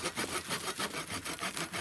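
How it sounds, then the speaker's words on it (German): Wood being sawn with the blade edge of a cheap 6-euro spade, a few seconds of rough rasping back-and-forth strokes in steady rhythm, close and fairly loud. "ich mache halt die alte Biber-Technik"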